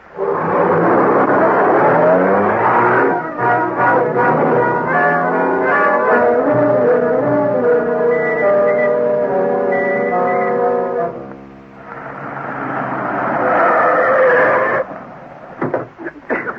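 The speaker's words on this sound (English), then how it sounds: "There's the car." A car engine in a 1942 Green Hornet radio drama rumbles loudly with a steady, rising harmonic drone for about eleven seconds, briefly fades, then swells again as a near vehicle approaches.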